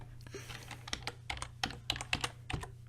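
Keys clatter on a computer keyboard in an irregular burst of close, quick taps, fairly quiet over a low steady hum.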